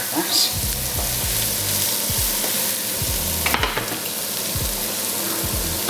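Garlic fries in a pan as a risotto base, giving off a strong, constant sizzle close up. Scrapes and taps of stirring sound at intervals throughout.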